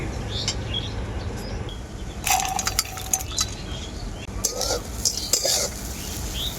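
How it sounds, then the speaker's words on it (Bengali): Metal spoon clinks and scrapes against a pan while stirring semolina pulao with chana dal, cashews and raisins, bursts of bright clatter between quieter stretches, with someone talking underneath. "কাজু আর কিশমিশ দেওয়ার পর আমি হালকা নাড়াচাড়া করে নিয়েছি"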